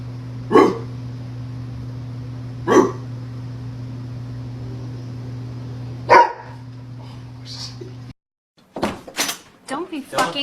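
A dog barks in three sharp, separate single barks spaced a few seconds apart over a steady indoor hum, followed by people talking loudly.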